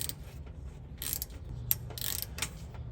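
Wrench working a rusty bolt back and forth, giving quiet, repeated ratcheting clicks and creaks in short bursts over a low mechanical hum; no talking.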